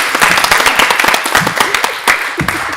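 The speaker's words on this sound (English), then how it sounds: "One more round of applause" A theater audience at a playwrights festival gives a brisk round of applause, dense close clapping from many hands throughout the short stretch.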